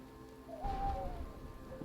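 Steady rain in the Skyrim video game, a soft continuous patter of drops that swells midway and stays close and even, with no voices over it.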